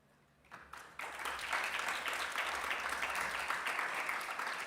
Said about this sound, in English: I guess all those great panelists deserve some applause.